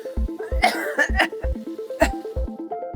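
A person coughs several times in quick, harsh bursts over steady, rhythmic background music.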